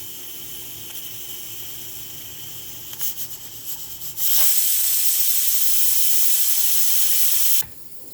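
A pressure cooker holding ladyfinger curry releases steam. After a few seconds of quieter cooking noise, a loud continuous hiss runs for about three and a half seconds, then cuts off abruptly.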